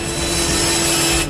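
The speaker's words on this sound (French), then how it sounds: "Et avec une scie circulaire de haute performance," A high-performance circular saw cuts through a wire fence, giving a steady, loud, continuous grinding whine with a constant tone that holds for the whole moment before fading slightly at the end.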